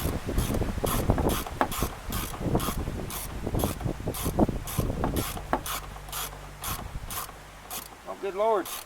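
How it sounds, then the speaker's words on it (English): A ratchet wrench clicks in quick, steady bursts while someone works on a 1981 Datsun 210, close and fairly loud with a few metallic knocks and a short whine at the end. "I quit reversing the ratchet on accident"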